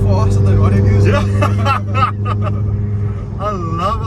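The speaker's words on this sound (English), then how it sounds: "I love how this car sounds" Opel Corsa OPC hot hatch engine droning steadily with rising and falling revs as the car drives, loud and close throughout, with people talking over it.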